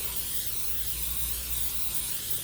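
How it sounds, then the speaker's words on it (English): Cooking spray hisses steadily into a baking dish in one continuous close-up burst, with a faint low hum underneath and no talking. "I'm just going to spray it because you don't want it to stick."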